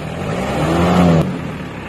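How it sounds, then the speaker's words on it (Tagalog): Mitsubishi L300 diesel engine revs up close and loud, a throbbing drone rising and holding before dropping back to idle, with no talk over it. "Maganda yung makina, no? Yung tunog mo."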